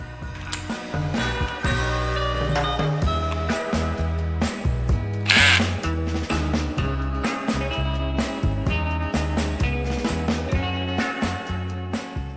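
A screw driven into uneven wood with a power drill while building a bed platform in a RAV4, a loud continuous whirring motor with pulsing ratchety clicks, close by and uninterrupted, with no talk.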